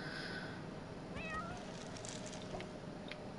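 A cat meows once in The Sims 4, a short mid-pitched call rising faintly above steady game ambience and background hum, with no talking.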